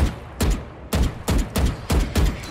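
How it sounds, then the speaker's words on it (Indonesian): Video game gunfire in a first-person shooter, repeated bursts of loud close shots in a steady rhythm of about five or six volleys. "di sini coba kita tembak-tembakan"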